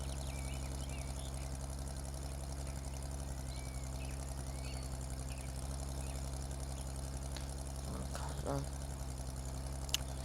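A steady low combine harvester engine drone idles throughout in Farming Simulator 2013, constant and droning, with a few brief mechanical clanks and whines near the end.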